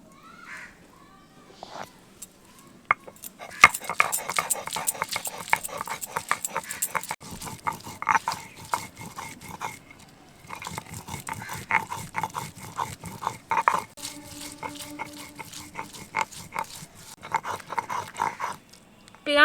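Three dried chillies, garlic, ginger and onion are ground together into a paste for a Bangladeshi prawn malai curry, giving close, irregular rhythmic scraping and knocking that rises and falls in busy bursts.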